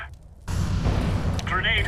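An incendiary grenade thrown in CS:GO gives a sudden whooshing, roaring burst that holds steady and loud for over a second, with brief speech-like sounds over the end.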